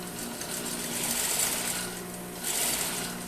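A sewing machine fitted with a bias folder runs steadily, stitching to finish a seam allowance with an even motor whir and rapid needle rhythm, fairly quiet and close, swelling slightly partway through without any talk.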